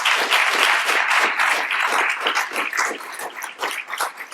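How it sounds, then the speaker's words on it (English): A conference audience gives a round of applause after a PEPFAR program session, dense continuous clapping from many hands filling the room, fairly loud and even before thinning slightly toward the end. "I think we should give everybody a round of applause"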